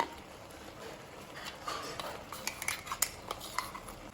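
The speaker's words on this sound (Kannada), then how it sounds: "ಮಸಾಲೆಯನ್ನು ಮಿಕ್ಸ್ ಮಾಡಿಕೊಳ್ಬೇಕು" A metal spoon scrapes and clinks against a pot in quick, uneven strokes, fairly quiet and close.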